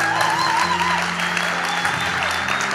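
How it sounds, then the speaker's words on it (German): A large audience at a church youth event applauds loudly to welcome the children's ministry leaders on stage, a thick continuous roar of clapping with sustained music tones underneath. "begrüßt mit mir einem tosenden Applaus den König des Kinder-ICFs"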